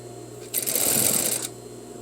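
A sewing machine runs a single steady burst of stitching for about a second while sewing an all-in-one facing near the shoulder seam, close and fairly loud, with quiet room hum before and after.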